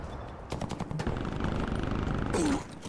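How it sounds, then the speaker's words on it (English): An automated sentry turret firing in a hardcore domination match on the Garrison map of a video game, with rapid bursts of gunfire running continuously and loudly through the whole stretch. "I guess my sentry turret's putting in work over there"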